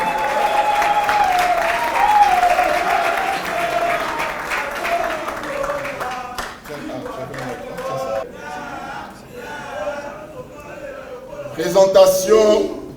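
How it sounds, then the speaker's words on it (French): Audience applause at a political conclave in Kinshasa, steady clapping from a crowd with a voice and tonal sound carrying over it, thinning midway and swelling again into a louder burst near the end. "je vous prie, s'il vous plaît, Kassongo Kalalo, sous vos applaudissements"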